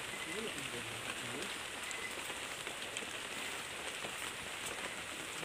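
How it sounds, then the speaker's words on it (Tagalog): Heavy rain falls in a steady, dense hiss across the whole stretch at night outdoors, faint and continuous, with a few voices murmuring underneath. "ang lakas na ng ulan"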